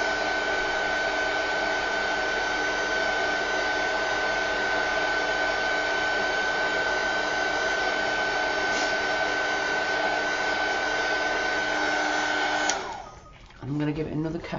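A heat tool drying ink on a craft card blows with a steady, close whirring hiss, then cuts off near the end as the motor winds down.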